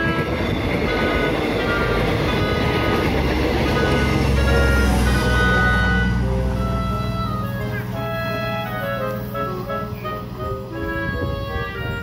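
A Prambanan Ekspres passenger train running from Kutoarjo to Yogyakarta passes close by: a loud, continuous rumble of wheels and cars with rail clatter, swelling midway and holding steady for the whole stretch.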